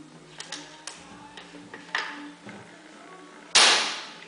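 A Blizzard S10 bullpup air rifle fires with its silencer removed, giving one loud, sharp report near the end after a few light mechanical clicks and taps.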